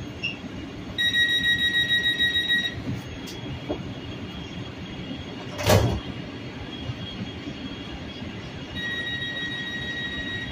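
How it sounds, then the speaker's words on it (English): Metro A Line train doors slide shut with a brief sharp thump amid steady rumbling cabin noise and faint chime tones, no speech. "Please stand clear. The doors are closing."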